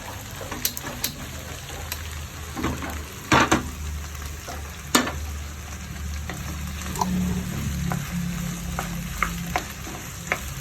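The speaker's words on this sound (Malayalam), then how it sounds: "ഇത് അപ്പുറത്തെ അടുക്കിലോട്ട് മാറ്റിയിട്ട് തേങ്ങ വറക്കാനിടാം" Grated coconut sizzles and crackles as it roasts in a pan in a home kitchen, with a steady frying hiss broken by occasional scraping stirs and clinks of a utensil against the pan.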